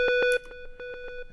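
Square-wave synth pattern programmed in 1/3 steps for a pluggnb beat, with a few long sustained tones at the start followed by a steady run of short repeated notes, bright and upfront with no voices.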